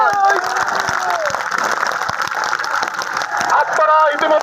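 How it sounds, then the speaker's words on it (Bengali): A crowd applauds at a BNP Chhatra Dal rally marking its 46th founding anniversary, producing steady, dense clapping throughout, with a voice speaking over it and the applause swelling again near the end. "এই জন্য আমরা সকলে করতালির মাধ্যমে"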